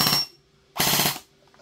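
A gel blaster toy gun fires in two rapid bursts of full-auto shots, each lasting about half a second and separated by a short pause, loud and close with a faint motor whine lingering after.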